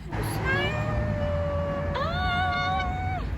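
A cat meows twice in long, drawn-out, rising cries, close and clear over a low steady background hum.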